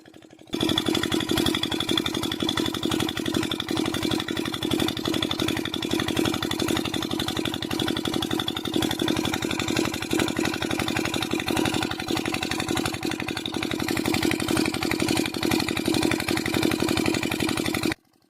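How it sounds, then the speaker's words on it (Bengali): A Kirloskar diesel generator engine, recently repaired after failing to take load, runs at a steady, even throb, loud and close for about seventeen seconds before stopping. "দেখে নিন ইঞ্জিনটি এখন ঠিকঠাকই চলছে"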